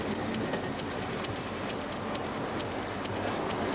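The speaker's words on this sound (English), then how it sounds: "Wait a minute. This is our train." A train passes close by with a loud, continuous rumble and a steady rhythm of clicking wheel clatter.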